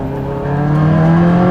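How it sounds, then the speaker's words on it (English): A Prodrive P25 Subaru Impreza with anti-lag system revs its exhaust, a brief close engine note that climbs quickly in pitch and grows louder. "ALS anti-lag system, yeah. and listen to that exhaust."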